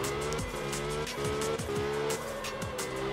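In the video game Absolute Drift, a car slides through a continuous drift, its engine droning steadily under repeated rising and falling tire squeals, loud and close with no talking.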